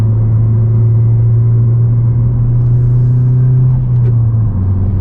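Honda Civic Si driving on curvy mountain roads at Lake Tahoe, its steady low engine drone and road rumble holding constant throughout, loud and close from inside the cabin, with no talking.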